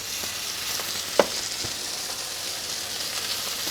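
Beef for Swedish Biff Rydberg sears hot and fast in a pan, a loud, close, continuous sizzle with stirring scrapes and one sharp click partway through.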